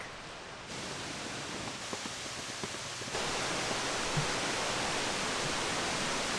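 Cane Creek Falls and Cascades at Fall Creek Falls, Tennessee, pour as a steady broadband rush of falling water, a constant hiss that grows slightly louder partway through, heard from a distance with no voices.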